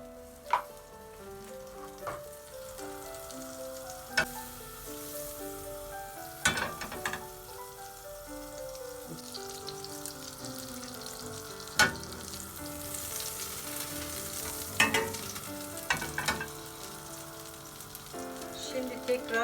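Butter and chicken sizzle steadily in a pan, with occasional clinks and stirring sounds over the continuous frying hiss, close by.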